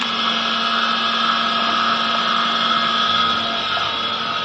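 Electric water pump motor running steadily at the entry of a home, a continuous even hum with a steady whine, close and unbroken throughout with no talk.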